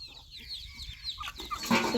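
Chickens cluck and chatter nearby at evening feeding time on a farm, in short, busy bursts, growing louder and denser toward the end.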